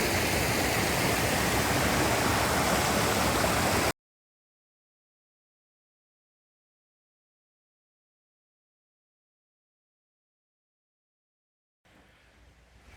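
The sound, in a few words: valley stream water flowing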